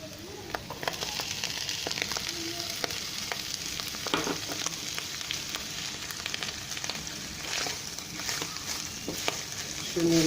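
Tuna and fried mushrooms being stirred together in a frying pan, a continuous sizzle and crackle with scattered scraping taps of the utensil against the pan, fairly close and steady throughout.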